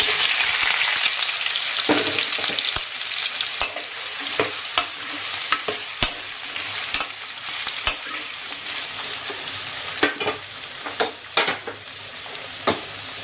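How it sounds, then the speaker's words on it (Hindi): A homemade spice blend crackles and sizzles steadily as it is tempered in hot oil in a pan, a constant bright hiss punctuated by sharp pops and occasional stirring clicks, close up. "सारे ही मसाले मिलाकर मैंने बना रखा है एक मसाला। तो अभी इसको छौंक दूंगी मैं।"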